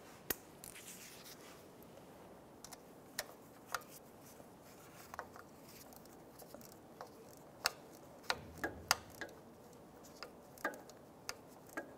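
A ratchet with an 8 mm socket snugs down a crank sensor bolt on a 2005-2010 Chevrolet Cobalt, giving sparse, quiet clicks spread across the clip that cluster more densely near the end.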